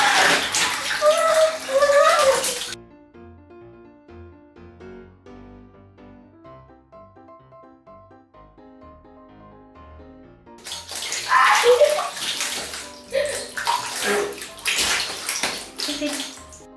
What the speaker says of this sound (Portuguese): meu pai vai virar o balde de lodo em mim